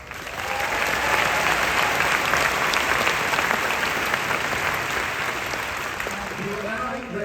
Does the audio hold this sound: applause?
yes